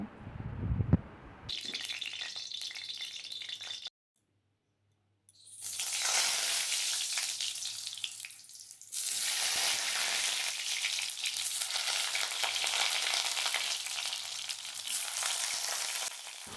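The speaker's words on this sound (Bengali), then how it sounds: "এখন আমি পটলগুলো এর মধ্যে দিয়ে নেব আর পটলগুলো একটু হালকা করে ভেজে নেব" Pointed gourd pieces frying in white oil in a wok, loud hissing sizzle that starts abruptly, breaks off briefly, then returns strong and steady, with occasional rattling as the pieces are moved.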